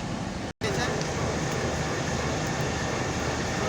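Loud, continuous rumble of a moving train at Fulbari station, with the Banglabandha Express and Titumir Express passing each other, steady throughout after a brief cut near the start.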